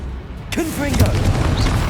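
A Confringo blasting spell goes off in Hogwarts Legacy, a sudden booming burst about halfway in followed by crackling magical swirls and a spoken incantation over steady game ambience.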